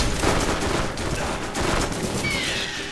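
A two-round burst-fire weapon shoots in Borderlands, giving rapid clustered gunshot cracks over a dense, continuous layer of game noise, loud and close.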